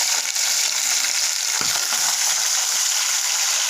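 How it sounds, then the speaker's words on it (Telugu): Chicken sizzles in hot oil with onions and curry leaves, a steady bright frying hiss that fills the whole clip, with a brief low knock of a spoon or pan partway through. "ఆయిల్లో బాగా చికెన్ వేగాలి."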